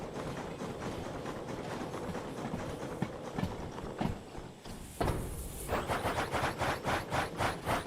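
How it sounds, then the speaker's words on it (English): A steam locomotive chuffs in the Derail Valley train simulator game, irregular thumps and hissing at first, then a regular run of rhythmic chuffs building toward the end, close and fairly loud. "What's chuffing?"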